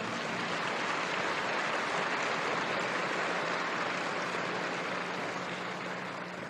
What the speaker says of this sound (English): Give them a lot of applause